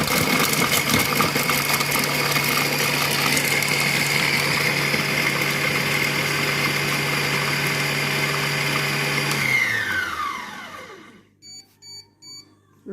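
A Compact Cook Pro M6 food processor chops garlic and shallot at speed 6 with a steady, loud motor whir for about ten seconds, then spins down, followed by a few short beeps.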